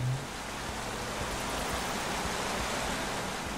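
Steady, broad rushing roar of a waterfall in Minecraft Story Mode, constant and fairly loud throughout, with no talk over it.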